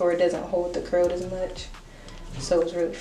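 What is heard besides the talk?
No everyday noise stands out behind the speech.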